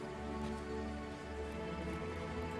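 Spell-summoned rain in the video game Divinity Original Sin, a steady, dense hiss of falling rain over a low droning hum, continuous and even throughout with no voices.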